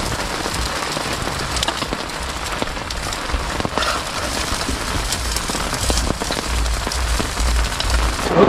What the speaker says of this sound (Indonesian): Dan ini juga hujan sesuai dengan perakiraan cuaca.